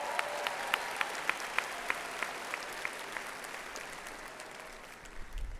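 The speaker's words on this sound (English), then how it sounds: "let's give him another round of applause" An audience at a 2019 high school graduation ceremony claps steadily with a few sharp individual claps standing out; the applause is moderately distant and gradually fades toward the end.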